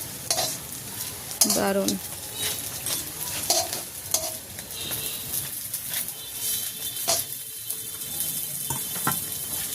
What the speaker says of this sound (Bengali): একদম কড়া করে ভাজতেছি